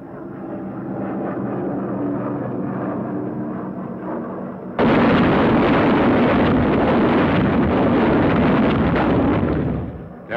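Jellied gasoline M69 incendiary bombs dropping in a wartime bombing raid, a steady heavy drone giving way to a louder, sustained roaring rumble of the drop and blasts, noisy archival recording.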